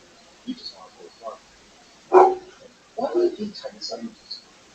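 A dog barks outdoors in a few short, moderately loud bursts, one strongest near the middle and others clustered later, while people talk nearby.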